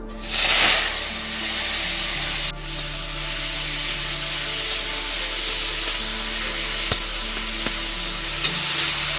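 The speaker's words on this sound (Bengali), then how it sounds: "শাকটা কুচিয়ে ভালো করে ধুয়ে নিয়েছি এবং তেলের উপর দিয়ে দিচ্ছি।" Chopped water spinach hits hot salted oil with a loud burst of sizzling, then settles into a steady, dense frying hiss with occasional soft stirring scrapes. No voices are heard.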